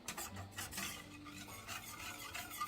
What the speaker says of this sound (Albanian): Vazhdojmë një herë i përzijem të gjithë këta përbërës që kemi shtuar brenda